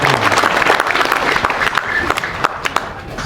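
A crowd at an Indonesian government agricultural event in Merauke, Papua, applauds for a minister, steady close clapping throughout.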